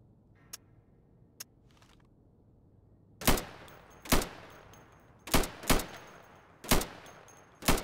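Rifle gunfire at targets in the video game Insurgency: six loud, separate shots fired at an uneven pace, preceded by two faint clicks in quiet.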